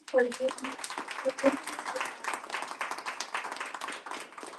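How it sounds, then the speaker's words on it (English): A small audience at a youth representative final selection event claps for the finalists, a scattered patter of hands that starts loud and thins over several seconds, mixed with a voice speaking at the start. "Maybe have a round of applause for them."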